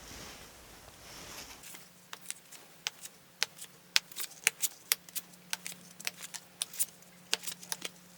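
Tarot cards being shuffled and tapped by hand, a quiet sequence of sharp, irregular card snaps and flicks, close and alone.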